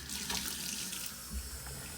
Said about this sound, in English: Now this time I'll actually rinse the blade,